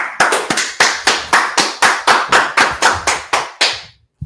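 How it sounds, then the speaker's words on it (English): A group claps in steady unison at a street gathering of the Israelite School of Universal Practical Knowledge in Washington, DC: about fourteen crisp, evenly spaced claps at a brisk pace, loud and close, ending with a short pause. "Let's clap it up."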